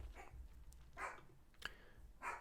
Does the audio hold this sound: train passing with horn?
no